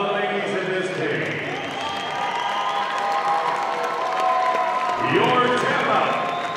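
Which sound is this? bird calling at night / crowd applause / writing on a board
crowd applause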